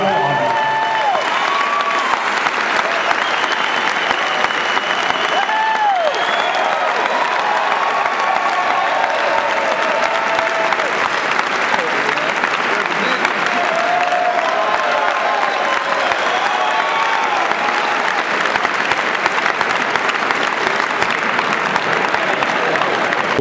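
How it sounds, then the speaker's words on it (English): A crowd applauds at a 2009 college football awards ceremony. The clapping is dense and continuous for over twenty seconds, with occasional whoops rising above the steady roar. "give one of our own, our tight end of the year, Dennis Wells, a big round of applause"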